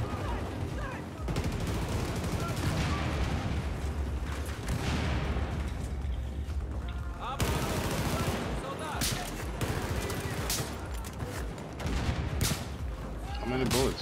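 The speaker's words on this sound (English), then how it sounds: "Shooting into the halls." Rapid Battlefield 4 gunfire in the locker halls, with loud bursts of automatic fire and scattered single shots filling the stretch, and voices talking over the shooting.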